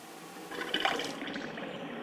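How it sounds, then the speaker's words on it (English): Water surges through a newly installed triple countertop drinking water filter, flushing black carbon fines out of the housing in a rising hiss of gushing, splashing flow, close and fairly quiet with no talk. "That's the black water coming out, forcing the carbon fines out."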